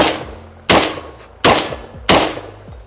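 A Rev Arms Impact M4 semi-automatic shotgun fires birdshot, giving three loud, sharp blasts spaced under a second apart, each with a ringing outdoor decay and a faint metallic clank.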